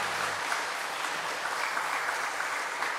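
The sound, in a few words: congregation applauding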